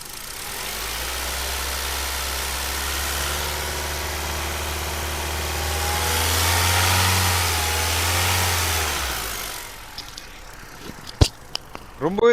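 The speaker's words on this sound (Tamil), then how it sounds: "இப்போ வண்டியோட இன்ஜின் நாய்ஸ் நான் உங்களுக்கு மைக்கை பக்கத்தில் வச்சு காட்டுறேன்" A 2009 Hyundai i10 automatic idles steadily and close by with a low, even rumble, then its engine cuts off into quieter clicks and knocks.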